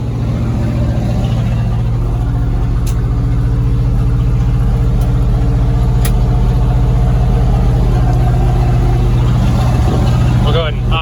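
A 1966 Ford fire truck engine runs at a steady, loud idle close by, a constant low rumble that holds throughout, with a few faint clicks and a brief rustle near the end.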